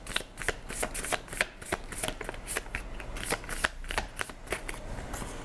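Tarot cards are shuffled for a reading, giving a steady run of crisp riffling and flicking snaps, close and fairly quiet, with no talking.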